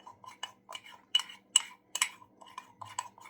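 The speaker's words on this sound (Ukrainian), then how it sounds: "Добре перемішую." A spoon clinks and scrapes against a cup while stirring hot cocoa into milk, quick irregular metallic taps close by in a quiet room, with no talking.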